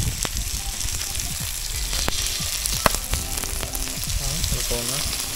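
Food frying in a pan in a home kitchen, a constant close sizzle with scattered clinks and small pops and a faint voice now and then underneath.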